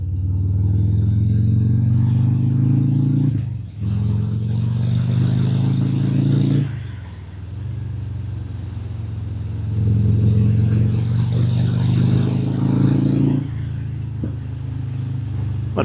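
Harley-Davidson Breakout 117 motorcycle on the road, its loud deep engine rumbling close, swelling under throttle and easing off twice with brief dips between pulls.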